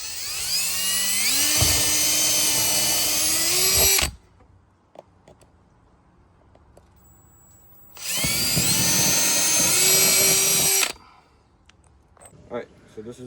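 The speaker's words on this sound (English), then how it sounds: "Once you pre-drill your holes, then your install will be a lot easier." Cordless power drill pre-drilling holes for a polycarbonate awning install, two long loud whining bursts with rising motor pitch, separated by a quiet pause.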